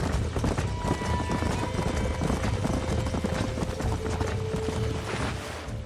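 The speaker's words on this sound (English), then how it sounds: "These are fine horses." Horses in the Red Dead Redemption game trot with steady clip-clopping hooves and give a few neighs and whinnies, heard over an outdoor ranch ambience without speech.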